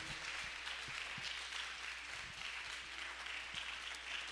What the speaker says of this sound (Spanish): dale una ofrenda de palmas a Cristo.